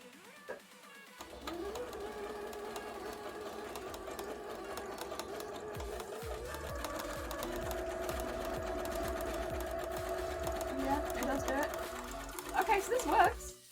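A sewing machine stitches fabric for a cosplay costume, running in a steady mechanical whir with even rhythmic needle clatter close by, continuous for most of the stretch and rising briefly near the end.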